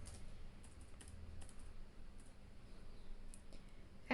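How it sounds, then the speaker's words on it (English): Light keystrokes on a computer keyboard entering a hex colour code, scattered soft taps spread over a few seconds against quiet background hiss. "type the hex code as triple F triple F"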